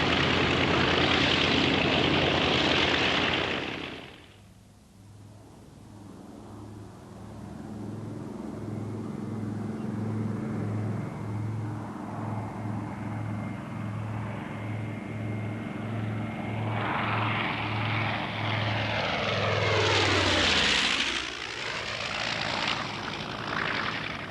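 Propeller-driven bomber carrying a Goblin parasite fighter slung in its bomb bay taxis toward takeoff, its engines droning steadily with a pulsing rumble that swells louder near the end as the aircraft passes close by.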